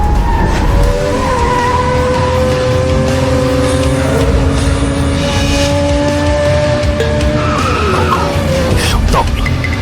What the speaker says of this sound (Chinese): 陈峰，他会提前刹车，你比他晚刹10米，直接切入内线。